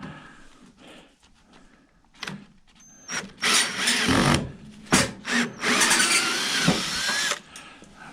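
A power drill fitted with a Torx bit whirs in short close bursts while backing screws out of an old microwave, with rattling and clunks between pulls of the trigger.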